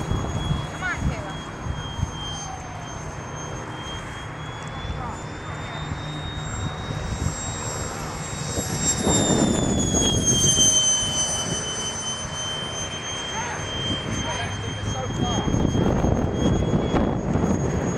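An RC EDF Habu jet model on its maiden flight, its steady high-pitched ducted-fan whine rising and falling as it passes overhead outdoors, with people talking throughout.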